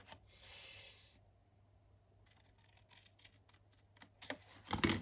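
A cardboard box is cut for a craft treasure box, giving a close, quiet hiss of scissors or a cutter blade, then scattered scratchy clicks and a few sharper crinkles at the end, with no talking.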